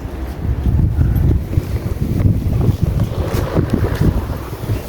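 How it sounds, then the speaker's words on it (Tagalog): Strong wind gusts buffet the microphone at an open, near-empty cemetery around midday, a loud, continuous low roar with rushing surges and no talking. "lakas ng hangin"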